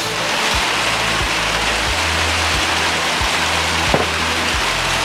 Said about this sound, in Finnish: niin totta kai se sataa vettä